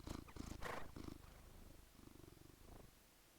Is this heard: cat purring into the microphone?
yes